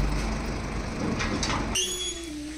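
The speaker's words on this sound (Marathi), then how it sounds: "हे दरवाजाचा आवाज आहे ना असा करकर येऊ राहिलाय" A jammed metal gate door at a house under construction creaks open with a high, drawn-out squeal that rises suddenly after a stretch of outdoor noise, holding a steady thin tone and then sliding lower toward the end.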